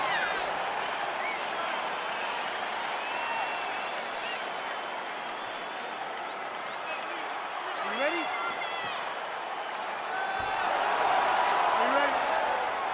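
A crowd cheers and applauds in a UFC 4 fight as the bout gets underway, a broad steady roar beneath a commentator's voice, swelling louder near the end.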